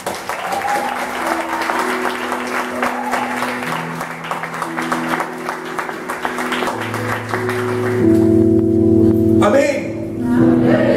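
Congregation applauding at a youth church sermon, sustained clapping from a crowd with organ or keyboard chords sounding underneath and swelling louder toward the end.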